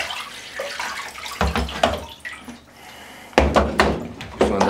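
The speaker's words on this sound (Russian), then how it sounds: "сейчас я солью воду" Water poured out of an ammunition box, splashing in uneven bursts with a couple of dull thunks as the box shifts, close by and fairly loud.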